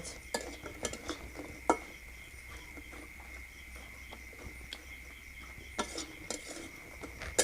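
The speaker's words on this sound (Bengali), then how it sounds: "বড়িটা ভাজা হয়ে গেছে" Homemade bori lentil dumplings frying in oil in a pan, a faint steady sizzle with scattered light clinks of a utensil stirring and scraping, close and quiet with no talking.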